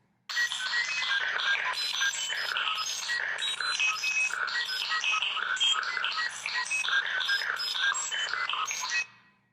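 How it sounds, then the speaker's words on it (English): Two electronic kitchen stove timers beep together at different speeds, forming a loud, dense, cacophonous clutter of high chirping tones that runs steadily for about nine seconds and then stops abruptly. No one speaks. "Now here's the first two stove beeps together."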